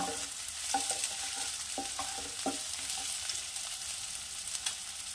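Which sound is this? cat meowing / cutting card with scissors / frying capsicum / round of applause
frying capsicum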